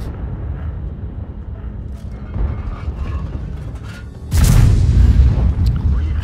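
Artillery shell impact in the World of Tanks video game: after a few seconds of low rumbling game ambience, a loud, close boom bursts in and a heavy rumbling blast carries on to the end.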